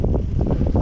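Headwind buffeting a microphone on a mountain bike converted into a gravel bike, a steady low rumble with rhythmic gusty swells throughout, close and fairly loud, no speech.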